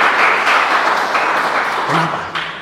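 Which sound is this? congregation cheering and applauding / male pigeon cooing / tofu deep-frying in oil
congregation cheering and applauding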